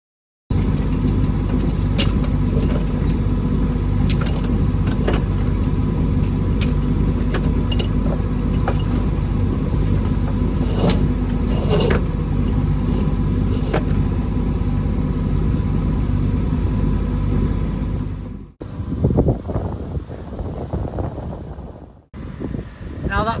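A sailing boat motors under engine power at about 4 knots, its steady low drone filling the whole stretch with wind buffeting the microphone, then the engine note shifts and rumbles more roughly near the end.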